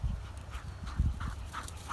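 A working dog pants close by outdoors in quick, rhythmic breaths, with a couple of heavier thumps and scuffs, no voices over it.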